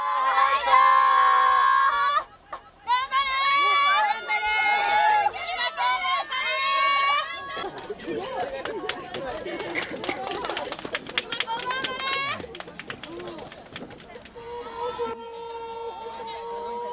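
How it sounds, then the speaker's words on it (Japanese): Crowd of parents and spectators cheering and shouting at a high school rowing race in Ehime, loud overlapping voices rising in waves with bursts of excited calls nearby. "大勢の保護者や観客が集まり、声援を送って選手を鼓舞します"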